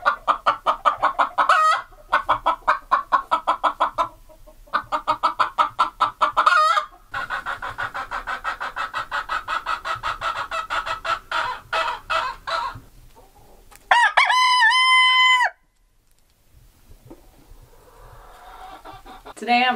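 Icelandic chickens in an Alaskan winter coop give repeated close clucks in bursts, and a rooster crows loudly near the end.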